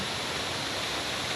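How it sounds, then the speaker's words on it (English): Steady rushing roar of a waterfall in a village nature spot at sunset, a broad continuous wash of falling water heard up close with no break through the whole stretch. "Oh, look at this waterfall, guys."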